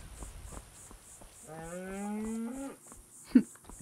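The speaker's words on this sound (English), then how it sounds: "Cow." A cow moos in a video game, one long, drawn-out low call with clear harmonics that swells and then cuts off, standing alone over faint ambient sound, followed by a brief thump.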